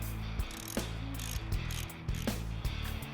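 A ratchet clicks close and loud in quick repeated bursts while loosening the bottom shock bolt on a Kawasaki KLR650 motorcycle, with no one talking.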